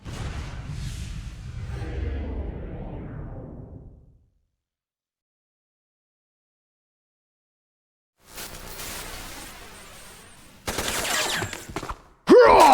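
Gunfire from security cameras with mounted guns in Metal Gear Solid: The Twin Snakes on GameCube comes in noisy bursts. A rumbling stretch fades to silence, then sharp rapid volleys return and grow louder toward the end.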